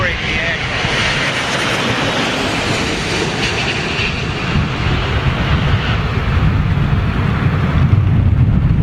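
An airliner landing in strong crosswind at London Heathrow, a loud continuous engine roar with heavy wind noise on the microphone that builds slightly toward the end.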